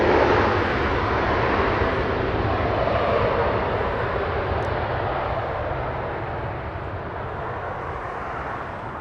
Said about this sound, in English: Delta Flight 501, arriving from Atlanta, Georgia.